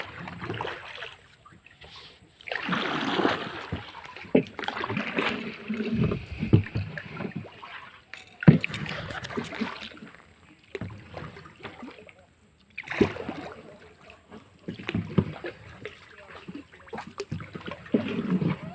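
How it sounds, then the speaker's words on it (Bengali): A small wooden rowboat is paddled on a river in Bangladesh, with bursts of water swishing and splashing in uneven strokes. People talk over parts of it. "চালাও চালাও, নৌকোটা চালাও, একটু চালাও।"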